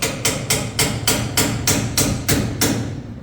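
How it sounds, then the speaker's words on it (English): A hammer taps metal ten times in a steady, even rhythm, each blow a bright ringing clang heard up close. "Let me take my trusty hammer and tap this back a little bit more."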